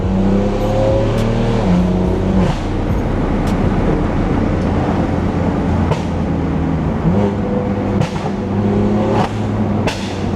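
A BMW M4 engine with aftermarket downpipes revs and drones continuously, heard close from inside, with sharp crackling exhaust pops scattered throughout.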